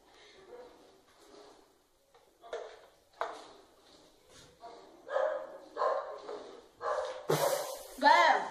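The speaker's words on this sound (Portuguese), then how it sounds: "esse cachorro tá latindo aí que nem uns condenados" A dog barks repeatedly in the background, mixed with people talking nearby, the barks growing louder and more frequent toward the end.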